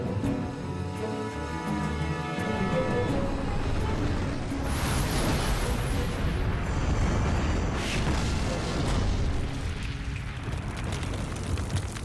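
Tank gunfire and explosions from a desert armoured battle against Iraqi T-72 tanks, a dense roaring burst of blasts and rumbling booms after an opening stretch of music.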